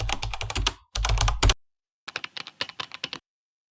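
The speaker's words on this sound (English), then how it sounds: "Now for the text, I am going to use another keyboard sound." Rapid keyboard typing in two bursts, the first dense and clattery, then a pause and a lighter run of distinct keystrokes, close and clear.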